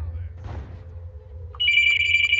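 A home landline telephone starts ringing partway through with a bright, sustained electronic trill, fairly close and loud, following a brief murmur and low background hum.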